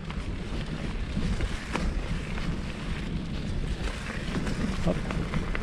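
Wind buffeting a microphone during a mountain bike ride through forest near Ychoux, a continuous low rumbling rush with soft gusty swells and faint rattles, no talking.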